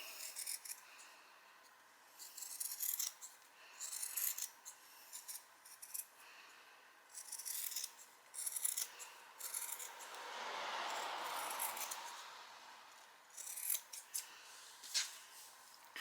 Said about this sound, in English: Now you need to trim back the seam allowance, or if you've got pinking shears, use those.